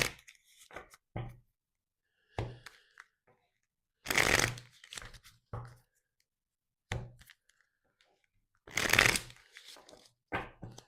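Tarot cards being shuffled in bursts of riffling and tapping, with two louder, longer riffles standing out among shorter soft card slaps and pauses, close and clear with no talking.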